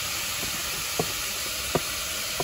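Steady loud sizzle and hiss of chopped bottle gourd hitting a hot pan, continuous frying noise close up with a few light scraping taps as the pieces are tipped in.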